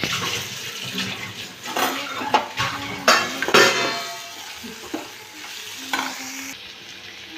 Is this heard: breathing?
no